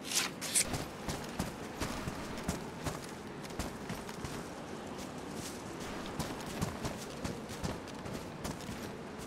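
A cow walking in the survival game DayZ, its hooves giving a steady, irregular clopping of footsteps at moderate distance over a noisy outdoor background.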